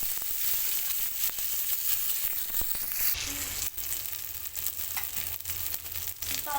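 Ginger and cumin paste frying in hot oil for mung dal, a steady close sizzle throughout with occasional stirring scrapes and no talking.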